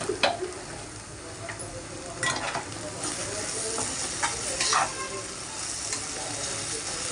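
Okra frying in a pan for a bendakaya fry with sesame powder, a steady sizzle and hiss with occasional scraping clinks of stirring throughout.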